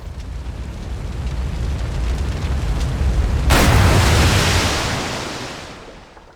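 A P-47 Thunderbolt crashing into water in the DCS flight simulator: engine rumble builds, then a sudden loud splash and crash burst that washes over everything before fading away.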